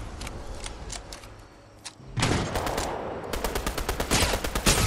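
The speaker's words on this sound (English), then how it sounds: "I'm getting shot at from somewhere else." Gunfire in Fortnite Chapter 3 Season 2: after a brief lull, loud rapid bursts of automatic weapon fire break out, with repeated sharp shots crackling close by in quick succession.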